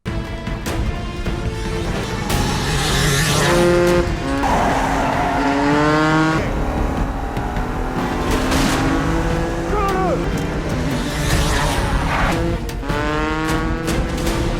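Loud, continuous motorcycle engine roaring and revving with shifting pitch as it speeds away, tires squealing at moments, racing past close by without pause.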